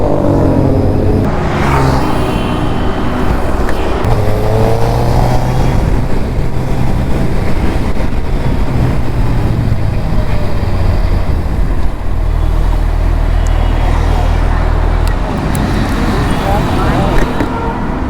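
A Suzuki Hayabusa motorcycle engine drones steadily on a night ride, loud and close, with wind rush and shifting engine tones as it changes speed, while someone talks over it.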